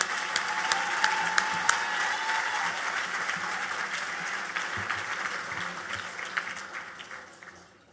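Sustained crowd applause fills a benefit gala hall, dense steady clapping with a few sharper claps standing out, slowly fading toward the end.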